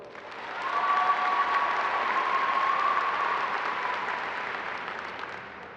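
Applause from an audience at a Logan County High School ceremony honoring future military service members swells quickly into steady clapping, holds for several seconds and then tapers off gradually, with no talking over it.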